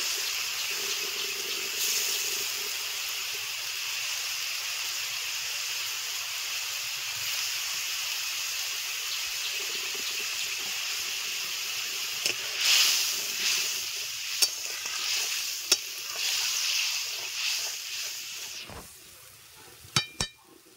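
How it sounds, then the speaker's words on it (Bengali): Water added to a pan of cooking potatoes for a cabbage vegetable dish bubbles and sizzles in a long, even hiss, ending with a few clinks and scrapes as it settles down. "এখন দিয়ে দিচ্ছি একটু জল। দেখো টকবক করে ফুটতে শুরু করে দিয়েছে।"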